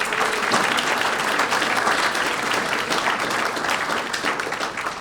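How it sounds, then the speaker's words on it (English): Audience applause for debate candidates, a dense sustained crowd clapping that stays loud and fairly even for the whole stretch with no voices on top. "please give them a round of applause for joining us"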